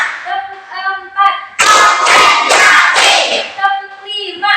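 A classroom group of teachers or students claps along to a counted clap routine, the fourth pattern, as a burst of loud rhythmic clapping and voices in the middle of the clip, with a leader's speech before and after it.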